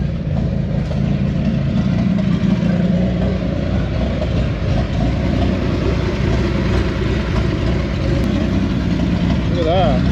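A 1965 Chevrolet Corvair with rebuilt dual Rochester HV carburetors idles while raised in the air, a steady loud mid-pitched rumble running throughout, with a voice talking over it.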